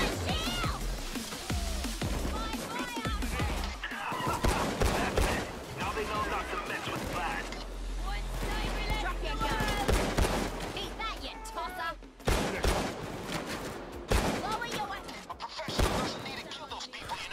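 Near-constant rapid gunfire from a Payday 2 heist shootout, dense overlapping bursts with heavy low booms, while a voice talks over the chaos.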